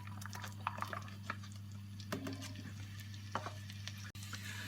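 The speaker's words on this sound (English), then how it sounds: "So you're going to want to cook these onions now for about 5-10 minutes or so till they've started to go nice and soft" Sliced onions cook in melted salted butter in a pot with a faint, steady sizzle under a low hum, broken by occasional stirring clicks and scrapes.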